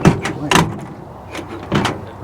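An old car's door, greased but still noisy, squeaks and slams shut several times in a row, loud and close with short gaps between.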